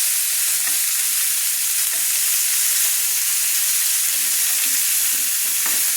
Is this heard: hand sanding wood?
no